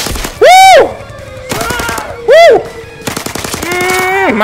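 Gunfire in the VR video game ZeroCaliber crackles in two loud rapid automatic bursts, broken up by shorter sharp shots and two loud rising-and-falling tonal sounds.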